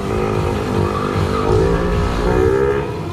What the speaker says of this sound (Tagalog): Testing na yung motor natin.